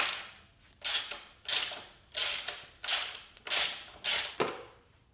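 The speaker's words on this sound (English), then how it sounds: "Allen key." Allen key turning a screw during the rebuild of a wrecked 2022 Indian FTR R Carbon motorcycle: a run of about six close, bright ratcheting bursts in a steady rhythm, each roughly half a second long, with no talk.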